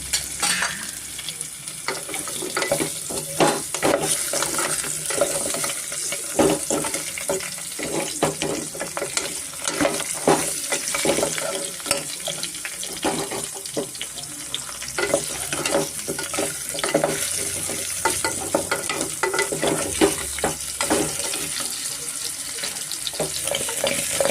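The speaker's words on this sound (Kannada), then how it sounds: "ಈಗ ಮಿಕ್ಸ್ ಮಾಡಿಕೊಡ್ಬೇಕಾಗುತ್ತೆ." Mutton trotter soup masala is stirred with turmeric in hot oil for hotel-style paya soup, giving steady sizzling and frying with repeated scraping and stirring strokes, loud and close throughout with no talk.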